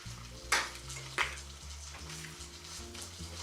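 Thin tilapia fillets fry in a pan with a soft, steady sizzle, broken by two sharp utensil clatters near the start.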